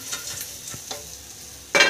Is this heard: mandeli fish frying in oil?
yes